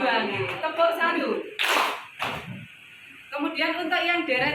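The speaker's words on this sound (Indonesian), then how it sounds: "Tepuk 1 berarti nanti tepuknya 1, kemudian di paha 1." A group in an Indonesian classroom clapping game does one hand clap and then one slap on the thighs. The two short, loud smacks sit between stretches of speech.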